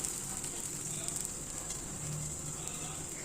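Adai batter of onion and coconut sizzles steadily on a hot pan as it is spread thin like a dosa, a continuous close, even hiss with no talking.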